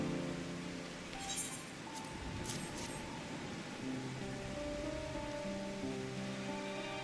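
Soft steady rain patters in the background with faint musical tones, a few brief splashy bursts early on, in Final Fantasy XIV: Endwalker's Thavnair region.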